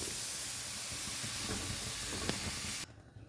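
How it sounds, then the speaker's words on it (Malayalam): Milk poured into a hot flour roux in a pan for white sauce gives a loud, steady steamy hiss and sizzle that cuts off abruptly near the end. "കുറേശ്ശെ കുറേശ്ശെ പാലൊഴിച്ചു കൊടുത്തൊന്ന് മിക്സ് ചെയ്തെടുക്കാം"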